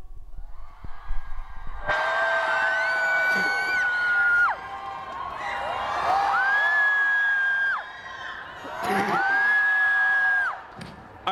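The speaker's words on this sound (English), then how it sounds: "I want you to scream until I put the bottle down." A festival concert crowd at Paskuhan 2013 screams loudly and continuously on cue, a sustained roar of cheering with high whoops rising and falling in three long swells.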